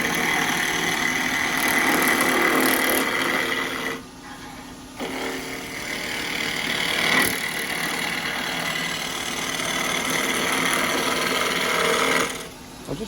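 Wood lathe turning a particularly bony piece of wood with a very sharp chisel, a steady whirring machine drone with scraping texture that runs continuously, dipping briefly around the middle and near the end.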